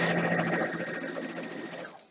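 A sewing machine stitching quilt pieces runs in a steady, fast mechanical whir for about two seconds, close and even, with fine rhythmic clatter and no talking.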